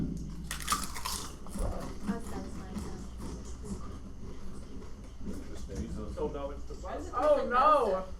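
Chips being crunched by a live audience all at once, the brittle crackling and chewing rising and falling amid murmurs and bursts of voices and laughter in a crowded room.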